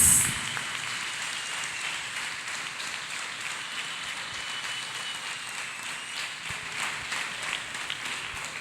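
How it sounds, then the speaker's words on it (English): A church congregation claps hands together in a continuous wash of dense clapping, heard from a distance and fairly soft, with no voices standing out. "Let us clap hands beautiful for Jesus."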